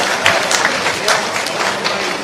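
Loud applause from a crowd at a BJP state office gathering in Bhopal celebrating a Lok Sabha election win, dense clapping with sharp peaks, a voice briefly audible over it.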